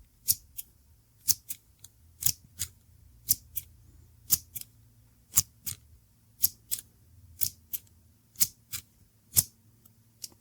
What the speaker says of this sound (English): How many times do I use these scissors?